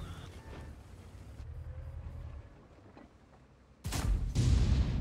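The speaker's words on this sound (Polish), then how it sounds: "No ja nie wiem, gdzie te strzały lecą." A tank cannon shot in World of Tanks sounds as a heavy, close boom about four seconds in, then a loud rolling rumble, after a stretch of low, steady engine drone.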